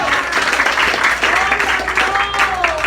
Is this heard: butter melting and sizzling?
no